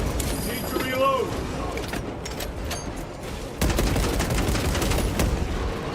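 Rapid heavy bolt rifle gunfire rings out in the No Man's Sky video game, with repeated sharp, close bursts and mechanical clatter layered under a player's talking.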